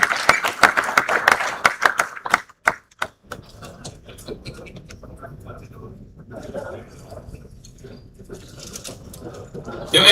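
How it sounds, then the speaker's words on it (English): Audience applause at a formal security summit, a burst of dense clapping that thins into scattered claps within a few seconds, followed by room murmur and quieter talk. "Please may we once again applaud him"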